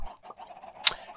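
A single short cluck from a Minecraft chicken pops out near the end, amid faint scattered game sounds and other quiet bird noises from the crowded chicken coop.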